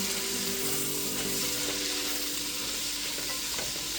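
Onions frying in a pan for braised cabbage and kale get stirred, a steady close sizzle with faint scraping under it, continuous and fairly even throughout, no talking.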